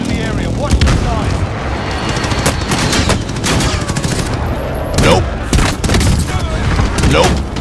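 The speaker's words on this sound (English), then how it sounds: "Marking airstrike target. This is Striker 3-1, good copy. Strike inbound." Call of Duty Warzone airstrike landing, a loud rolling barrage of booming explosions and rapid gunfire-like cracks that continues without pause, close and heavy.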